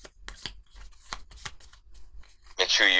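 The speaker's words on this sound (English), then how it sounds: "I'm shuffling my cards." A deck of playing cards shuffled at a table during a game session: a loud riffle burst at the end, following scattered taps and card handling while people talk.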